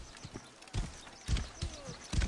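Horse hooves pound in quick, heavy beats as a horse gallops in the video game Assassin's Creed Origins, with soft footfalls between the louder thuds.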